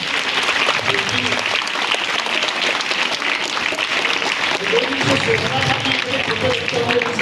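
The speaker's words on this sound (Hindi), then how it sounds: "एक बार जोरदार इनके लिए तालियां होना" Loud, sustained clapping from an audience honoring teachers at a Hindi Day ceremony, a thick continuous patter with crowd murmur and some voices mixed in underneath.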